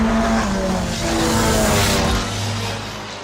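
Race cars roaring around the track at Volusia Speedway Park during the Bike Week Jamboree, loud engine noise with tire squeal building and fading as the pack passes, no talking.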